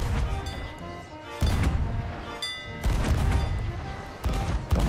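Firecrackers going off in the pirate video game Sea of Thieves: loud, dense crackling bursts that erupt in three separate waves, each a rapid volley of sharp pops, with a low rumble underneath.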